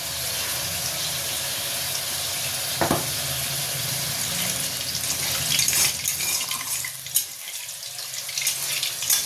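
Bay leaves are dropped into oil already used for frying chicken, giving a steady, close hiss and sizzle with a few brief clatters and bursts near the end.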